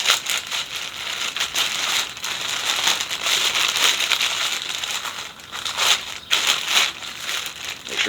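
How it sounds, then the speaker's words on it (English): A plastic package bag is torn open and crumpled close by, a dense run of crinkling and crackling that keeps going with short pauses. "tear it open"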